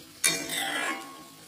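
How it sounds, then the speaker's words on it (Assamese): Butter garlic onion chicken being stirred in a pan: a short scrape and soft sizzling of a spoon working the food, fairly quiet and close, with no talking. "এইখিনি মই এতিয়া প্ৰায় 4-5 মিনিট মানৰ কাৰণে এনেকৈ লৰাই থাকিম"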